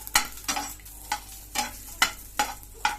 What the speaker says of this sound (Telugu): కొద్దిగా అట్లా ఫ్రై చేసుకోవాలండి